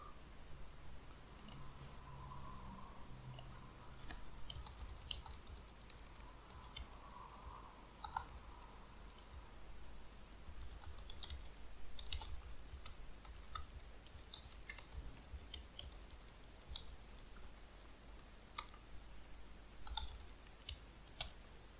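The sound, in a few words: mouse clicks while copying an XPath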